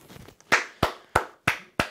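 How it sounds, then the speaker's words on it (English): A single person claps by hand, five sharp, evenly spaced claps in under two seconds, close and dry with nothing else heard. "give a little round of applause to the Ohio State defense"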